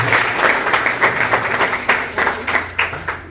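Graduates and guests at a leadership-training graduation ceremony clap in a loose, moderately close round of applause over a low steady hum.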